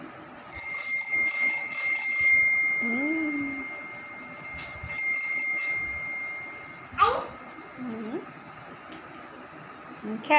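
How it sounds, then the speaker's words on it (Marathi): A child's bicycle bell rings in quick bright trills, two bursts close by and a short ding later, while a voice and an adult voice talk between and over the rings. "बेल आहे, बेल."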